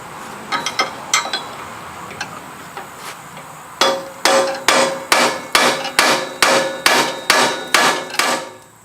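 A hammer taps on a stuck part of a Kuhn hay tedder, first in lighter scattered knocks, then in about ten loud, evenly spaced metallic blows close by.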